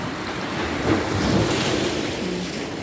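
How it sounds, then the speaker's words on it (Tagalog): Ocean waves wash steadily onto the shore at the seaside, a broad continuous surf rush with wind buffeting the microphone throughout. "Ganda ng alon no."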